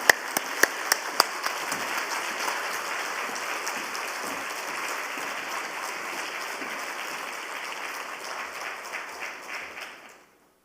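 A church congregation at a Wednesday worship praise concert applauds in a steady sustained wash of clapping that holds for about ten seconds and then stops abruptly, a few sharp claps standing out at the start.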